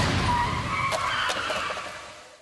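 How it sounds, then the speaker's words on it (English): Side-impact crash test on a 2012 Honda Civic, a loud burst of impact noise with scraping and skidding that fades quickly, heard alone with no talking. "Now here's how this model does in the side crash test."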